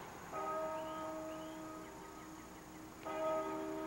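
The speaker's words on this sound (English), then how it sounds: "The bell." A single church-style bell rings two rich, resonant strokes about three seconds apart, each ringing out and slowly decaying, fairly quiet and distant with no voices.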